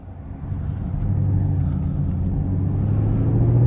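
A Chevrolet Camaro SS engine rises from a low idle into a loud, deep rumbling rev on a downshift that holds and builds, close by with no talking.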